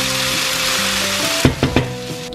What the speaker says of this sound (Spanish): una vez que tengamos ya refrito el brócoli, la berenjena y los ajos